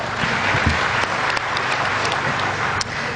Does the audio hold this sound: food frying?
no